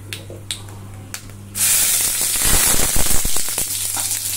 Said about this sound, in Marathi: आपण पॉट गरम करायला ठेवलंय आणि त्याच्यामध्ये थोडेसे खडे गरम मसाले घातलेत.